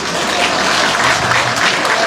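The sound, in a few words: audience applause at a rally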